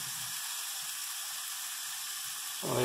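Onions sizzle on a hot griddle while burgers are being made, a steady hiss that runs without pause and sits close and even, with a slight bump in loudness near the end.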